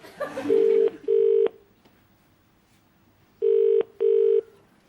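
A telephone ringback tone sounds on an outgoing call as two pairs of steady electronic double rings, loud and clean, separated by a pause, with faint voices at the start.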